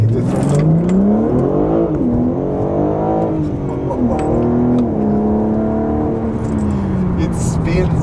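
A 2024 BMW M4 Competition xDrive accelerates hard at full throttle, its engine note rising and falling steadily and loudly for several seconds, close by, with no other sound over it.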